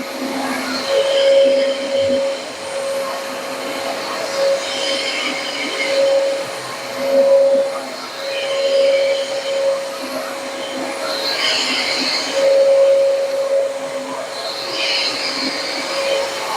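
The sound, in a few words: vacuum cleaner running without high-pitched squeal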